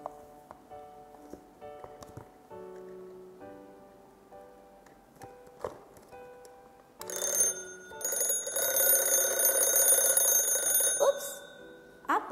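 An alarm clock (jam waker) starts with faint ticking and soft mechanical clicks, then after several seconds bursts into a loud, continuous metallic bell ring that sustains to the end.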